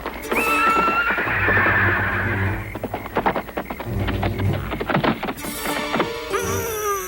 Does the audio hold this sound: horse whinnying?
yes